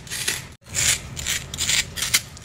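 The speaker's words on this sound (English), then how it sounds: "as you scrape it out, it's actually being minced" Metal spoon scraping the inside of a halved onion to mince it, a series of close, rhythmic wet rasping strokes with one brief pause, no talking.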